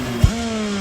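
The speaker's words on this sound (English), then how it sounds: "the revs are rising, sort of like a race start" A go-kart with metal side pods and a rear bumper idles at a steady, close engine drone at a pit-lane race start, with a single low thump near the beginning.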